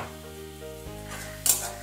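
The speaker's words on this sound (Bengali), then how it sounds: "দিয়ে আমি গাজরগুলো ভেজে নিচ্ছি।" Carrots fry in hot oil with a lightly salted, steady sizzle, and a short clink of a utensil or pan comes near the end.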